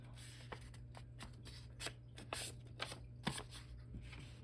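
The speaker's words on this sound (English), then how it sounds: "So this is just some copy paper, and I just have 2 pieces just for this example here. And I'm going to fold it in half." Two sheets of copy paper being folded in half for a junk journal, with soft, close crinkling and rubbing taps scattered through the clip and no talking.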